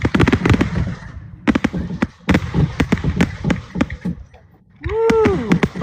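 Fourth of July fireworks display at Yorktown: a rapid string of sharp, loud bursts and crackling pops, with a few near bangs, a brief rising whistle-like tone, and a crowd faintly audible around them.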